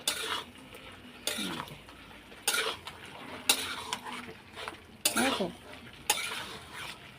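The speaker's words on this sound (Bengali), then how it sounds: "আলু ইঁচড় দিয়ে এখন একটু কষাবো" Potatoes and young jackfruit being sautéed in a pan with a little water, with rhythmic scraping stirs about every second over a soft sizzle, close and fairly quiet.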